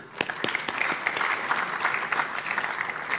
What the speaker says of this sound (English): another round of applause for our keynote speakers